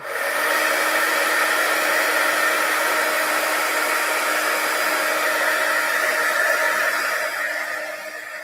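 A heat embossing tool blowing hot air steadily over a handmade card, a continuous close, loud whooshing hiss that holds for several seconds and eases slightly near the end, with no voices.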